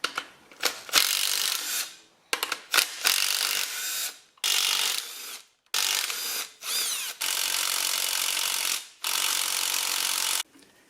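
Metal parts scraping and clunking as the crankshaft is worked out of a Datsun 520 engine during a complete teardown, with bursts of rubbing and ratcheting broken by short pauses.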